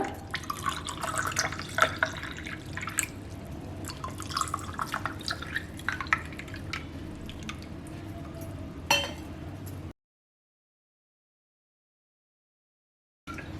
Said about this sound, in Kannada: ನೆನೆಸಿರುವಂತಹ ಸಬ್ಜಾ ಬೀಜ ಹಾಕ್ಕೊಂಡಿದ್ದೀನಿ ನೋಡಿ ಇದಕ್ಕೆ ಮಾಡಿರುವಂತಹ ಈ ಶರ್ಬತ್ನ ಹಾಕೋಣ